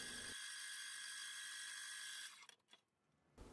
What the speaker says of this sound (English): Finally, we use a center drill, an undersized number 31 drill